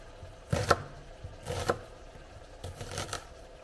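Three separate bursts of a knife finely chopping onion on a board, each a quick cluster of crisp hits, with quiet pauses between them; close and moderately loud.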